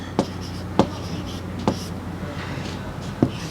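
A pen writes words into a blank in a children's Hindi workbook, making a few short scratchy strokes at spaced intervals, close and soft over a steady room hum.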